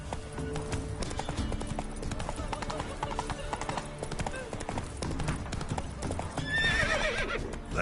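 Hooves of the horse Roach clip-clop in a steady galloping rhythm in The Witcher 3, close and loud over game music, with a brief whinny near the end and a voice talking.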